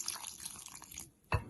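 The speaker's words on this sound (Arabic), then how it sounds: "ونزيد شويه ماء" Water poured into crepe batter for a traditional baghrir recipe gives a soft, continuous liquid trickle that pauses briefly, then ends in a sharp splash, close and alone.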